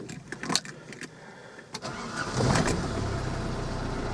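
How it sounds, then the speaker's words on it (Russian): A diesel Audi A6, somewhat cooled down, cranks briefly with a few clicks and whirs, fires up quickly and settles into a steady, close, clattering idle that carries on to the end, with no talking. "Остыло уже немножко, но заводится хорошо."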